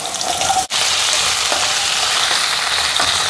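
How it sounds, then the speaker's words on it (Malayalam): Potato pieces fry loudly in hot oil, a dense, steady sizzle that fills the clip close up, broken once by a brief dip early on, with no talking. "എണ്ണ ചൂടായപ്പം നമ്മൾ കിഴങ്ങിട്ട് കൊടുത്തേ."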